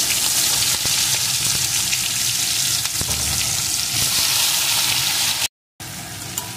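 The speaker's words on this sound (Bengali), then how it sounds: "এখন লবণ হলুদ মাখানো চিংড়ি মাছগুলোকে এর ভিতরে দিয়ে দেব।" Prawns coated in salt and turmeric go into hot oil in a pan, a loud, steady, hissing sizzle with occasional stirring clatter, briefly cut to silence near the end before the frying resumes.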